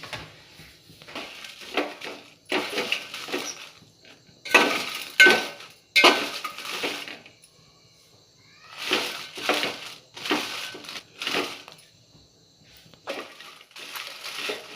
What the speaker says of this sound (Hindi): अब इसमें मैं मिर्ची डालकर थोड़ी धीमी आंच पर भूनूंगी